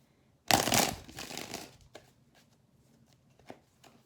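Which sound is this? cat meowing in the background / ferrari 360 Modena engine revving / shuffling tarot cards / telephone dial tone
shuffling tarot cards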